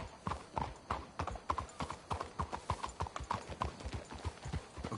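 Horse hooves clip-clop in Red Dead Redemption 2, a steady rhythmic run of close, distinct hoof strikes on hard ground, several horses overlapping, with no talk.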